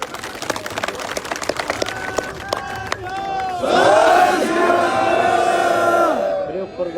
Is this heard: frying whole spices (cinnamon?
no